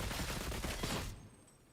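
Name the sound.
dual auto pistols firing in Space Marine 2 video game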